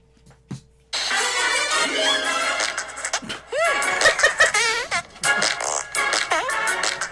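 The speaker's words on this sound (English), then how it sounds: "Fart number 4. In the movie." A long comic fart from a movie plays loud and drawn out, with wavering pitch that rises and falls, followed by laughter and more sputtering bursts.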